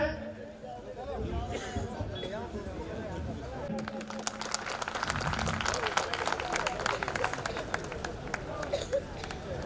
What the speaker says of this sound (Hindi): आपकी तालियां थोड़ी कमजोर लग रही है मुझे।